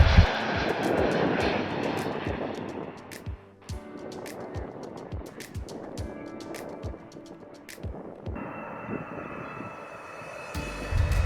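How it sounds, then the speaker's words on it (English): A Lufthansa airliner on approach to runway 15L at Incheon airport, a steady jet-engine roar that fades gradually, heard from outside at moderate loudness with clicking handling noises throughout. "Lufthansa 702, runway 15 left, clear to land"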